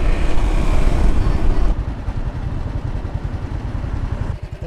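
A motorbike engine in Pai, Thailand rumbles steadily up close, its loud throaty drone continuing throughout with a slight shift in tone partway.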